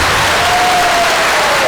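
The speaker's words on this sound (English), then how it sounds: "Let's give him a big round of applause" Loud, continuous clapping from a crowd at a youth campus opening ceremony in Kliptown, with a thin electronic whine running through part of it.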